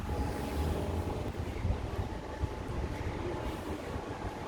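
Steady rumble of a Tangara electric passenger train in motion at Cronulla, New South Wales, with low rolling noise and faint rhythmic clatter throughout.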